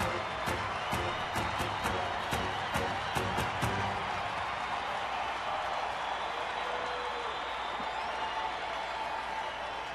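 A baseball stadium crowd during a Dodgers at Diamondbacks game in Arizona keeps up a steady roar of applause and chatter, with a few crisp rhythmic claps standing out early on.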